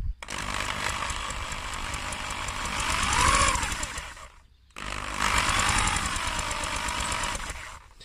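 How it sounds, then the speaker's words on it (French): Electric drill spinning the engine of a 1956 Solex 660 moped to check the ignition, a loud continuous whirring buzz in two long runs separated by a short pause. "Donc je mets la perceuse, hein, ça va plus vite."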